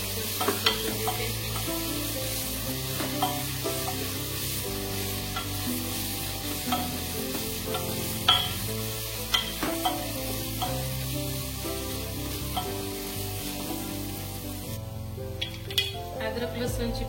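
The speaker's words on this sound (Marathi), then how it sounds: "आलं लसूणची पेस्ट, आलं लसूणची पेस्ट परतून घेते" Ginger garlic paste sizzles as it is sautéed in a pan for chicken biryani, a steady frying hiss with a spoon stirring and scraping against the metal in irregular clinks.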